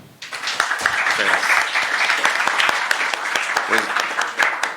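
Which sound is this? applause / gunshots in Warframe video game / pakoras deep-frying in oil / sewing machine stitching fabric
applause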